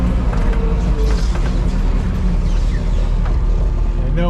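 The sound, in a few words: Kubota tractor engine throttling up in cold weather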